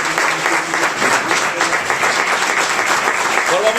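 An audience at a flamenco conference breaks into loud, sustained applause, dense clapping that fills the room from start to finish.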